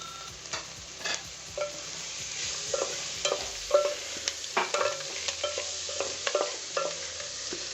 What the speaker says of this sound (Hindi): अब मैंने एग्स डाल के बहुत ही हल्के हाथों से इसको चलाना है।